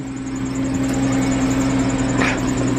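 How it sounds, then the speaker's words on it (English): A car with a VR6 engine idles steadily nearby with a constant low hum and slight rattle, loud and unbroken throughout. "I'm thinking that I should turn that car off because that's pretty loud probably to you guys."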